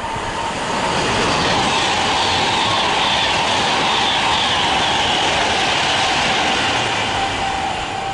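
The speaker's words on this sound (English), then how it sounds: "Pendolino from Glasgow to London." A Pendolino express from Glasgow to London speeds through a platform at Milton Keynes Central, a loud continuous rushing roar with a faint steady tone running through it, close and unbroken from start to finish, without voices.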